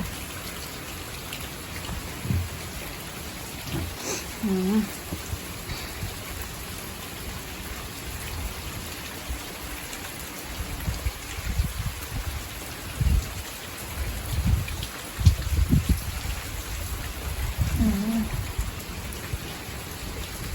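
Winter rain falls steadily at a roadside rain shelter, a dense, even hiss of drops on surfaces with occasional heavier patters and faint low rumbles throughout.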